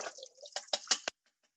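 Liquid poured out of a can of garbanzo beans, giving a short run of quick, close gurgling glugs and splashes that stop abruptly, followed by a few faint drips.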